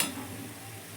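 Onion pakoda fries in hot oil, giving a steady close sizzle with a brief stirring clatter at the start.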